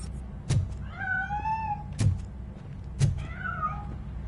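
A cat meows twice in the Robocop video game, each drawn-out call rising and falling, with short thumps and clicks between them and no talk.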